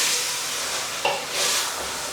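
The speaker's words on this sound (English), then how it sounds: "now I'm going to add my chopped in tomatoes in, along with all the spices, and just give everything a mix." Chopped tomatoes and spices are stirred in a hot pressure cooker, giving a continuous sizzling hiss with a brief scrape near the middle and no talk.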